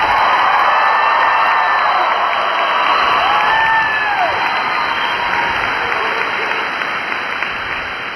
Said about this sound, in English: How about a round of applause for your new Marines?